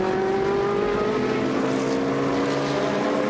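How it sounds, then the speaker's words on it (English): A race car accelerating in the pit lane, its engine note a loud, steady high-revving drone that climbs slightly in pitch over a few seconds, with no voices heard. "watch the car accelerating up to the line"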